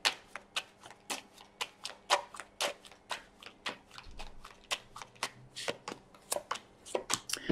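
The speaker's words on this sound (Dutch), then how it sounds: "Dus een kaarten schudden om te kijken wat deze week voor jou gaat brengen." Tarot cards are shuffled by hand in a steady, rhythmic run of soft papery slaps and flicks, close and continuous, with no talking over them.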